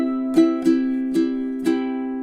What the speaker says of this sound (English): So normal strumming might look something like this